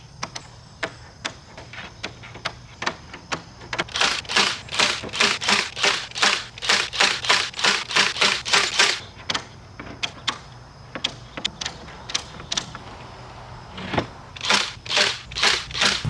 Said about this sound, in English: Fence is stapled on there.